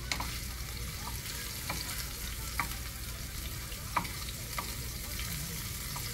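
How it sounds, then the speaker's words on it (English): Homemade chicken noodle soup with partly raw pieces gets stirred in a pot: a constant low sizzle under sharp spoon taps on the pot rim every second or so, with no talking. "let me stir this up"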